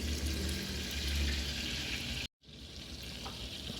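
Chopped fresh thyme goes into melted butter in a pan, setting off a steady, close sizzle that cuts out for a moment midway and then resumes a little softer.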